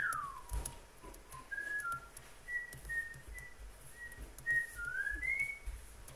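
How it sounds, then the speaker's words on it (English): A person whistles a short, wandering tune of separate high notes, fairly faint over a quiet background with a few soft knocks, during a Bee Swarm Simulator gaming session. "stop whistling"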